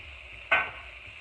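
Garlic and onions dropped into a hot pan after meat has been removed, a single sudden sizzle burst that flares loudly and then settles into a softer steady frying hiss, with no talk.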